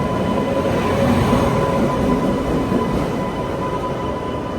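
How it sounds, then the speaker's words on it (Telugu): A locomotive moves along a neighbouring platform at Vijayawada Junction, heading off for loco reversal: a steady, fairly loud rail rumble with a faint metallic hum, heard alone without voices. "పక్క ప్లాట్ఫామ్లో ఏదో లోకోమోటివ్ లోకో రివర్సల్కి వెళ్తుంది."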